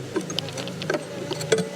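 Honey bees buzz close by as they cluster on a queen cage and hive frames during installation of a package of bees, a soft, wavering drone with brief louder passes of individual insects.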